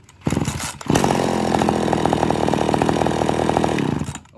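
A Japanese Echo chainsaw engine starts after being switched off and settles into a steady, loud, buzzing run close by for about three seconds before cutting out, with no talking.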